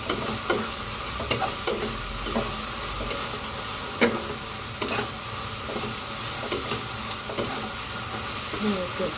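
Pancit canton is stir-fried in a deep wok, a steady sizzle with regular scraping strokes of a utensil against the pan, close and fairly loud, with no talking.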